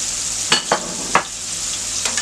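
Mushrooms sizzle softly in a frying pan, with three quick scraping stirs early on and a couple more near the end, close with no speech.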